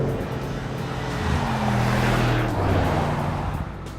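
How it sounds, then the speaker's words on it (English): A 2018 Mercedes-AMG G 63 with its 4-litre V8 rumbles close by, the engine note swelling through a rev in the middle and easing back, steady and loud with no talk. "this one now gets Mercedes AMG 4-litre V8. And it sounds like that"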